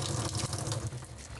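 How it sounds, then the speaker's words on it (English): Water gushes and splatters into a kitchen sink as a wet towel packed with cauliflower is wrung out, a steady loud running sound lasting a moment with no talking. "I'm just gonna give that a squeeze to get that excess water out."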